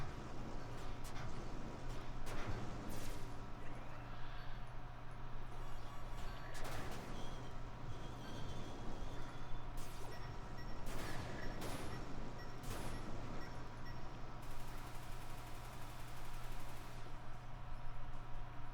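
Explosions in the game Copy Kitty burst in a dense, continuous barrage of booming blasts and crackling impacts over a steady droning game soundtrack, loud throughout with repeated sharp bursts.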